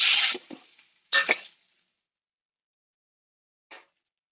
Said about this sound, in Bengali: এখানে পেঁয়াজ কুচি, রসুন কুচি, আলু আমি টোটালি এটা ভেজে নেবো